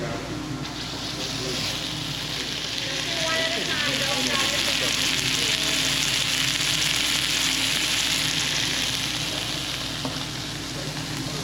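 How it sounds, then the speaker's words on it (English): Beef searing in a hot pan for beef Wellington, a loud, steady sizzle and crackle of frying meat that runs without a break, with faint kitchen voices mixed in underneath. "you gotta sear the meat"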